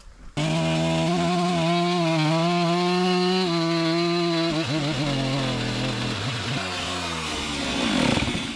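Motorized saw, probably a chainsaw, cutting about ten inches off the rotten end of a wooden post; a loud, steady close-up engine whine holds for several seconds, wavers in pitch as the blade bites, then dips and revs back up.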